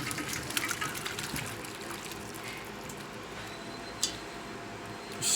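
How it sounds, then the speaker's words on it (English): Cooked macaroni noodles and their water poured from a pot into a strainer in a kitchen sink, a steady close rush of water and splashing that runs throughout with one brief clatter near the end. "Take this over to the sink and pour it in my"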